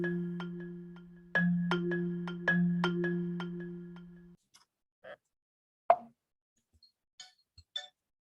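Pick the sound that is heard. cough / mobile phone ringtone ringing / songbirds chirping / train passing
mobile phone ringtone ringing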